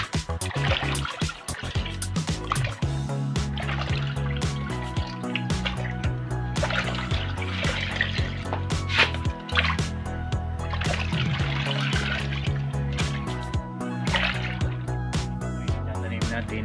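Water trickling and dripping into a styrofoam cup in a hydroponic Japanese cucumber setup, soft irregular splashes and drips close by, with a voice talking over it and some background music.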